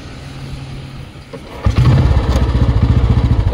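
An old Royal Enfield Bullet motorcycle with an earthing wiring fault starts after a moment of quiet, then settles into a loud, close, steady thumping idle.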